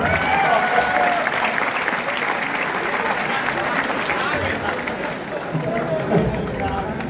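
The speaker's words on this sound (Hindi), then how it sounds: "एक बार जोरदार ताली के साथ" Loud, sustained applause from a poetry gathering audience, a dense continuous wash of many hands with faint voices mixed in, steady throughout.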